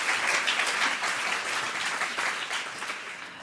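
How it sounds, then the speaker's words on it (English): Sustained applause from an audience for a panel discussion, dense and continuous clapping throughout, gradually tapering slightly toward the end. "Let's please give another round of applause for our entire panel."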